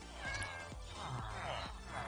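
A cat meows in a few drawn-out cries over a steady background hum and low thumps. The meows are moderately faint and mixed into the surrounding sound.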